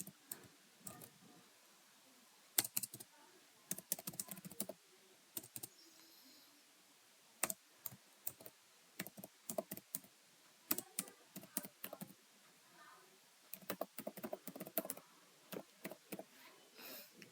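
Someone types on a computer keyboard in short bursts of rapid key clicks separated by pauses, close and fairly quiet, with no one speaking.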